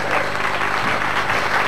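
A school poetry contest audience claps in a brief, steady burst of applause, fairly loud and continuous throughout.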